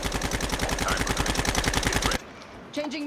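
M4 LMG light machine gun in the Call of Duty Mobile battle royale, firing a sustained rapid automatic burst of even shots for about two seconds, then stopping into quieter game noise.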